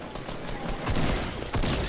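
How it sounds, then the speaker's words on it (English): Gunfire in the video game Fortnite comes as a dense, noisy stretch with a couple of louder shots breaking through near the end. "I shot at them, come on."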